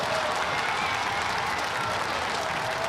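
Crowd applause fills a stadium in the EA FC football video game, a dense, steady wash of clapping that runs unbroken throughout, loud and with no talk over it.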